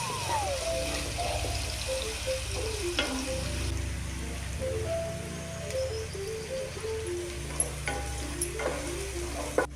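Sliced onions, curry leaves and green chilies sizzle and crackle in hot oil in a pan for a brinjal curry, a steady close frying hiss with occasional stirring and a faint voice humming over it.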